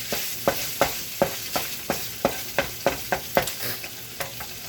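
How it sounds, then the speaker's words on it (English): Cooked meat is stirred and scooped in a pan with a utensil, giving about a dozen evenly spaced scraping strokes close by over a soft sizzle, with no voices. "I'm going to scoop up the food, and I mean the meat."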